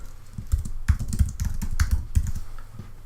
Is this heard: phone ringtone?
no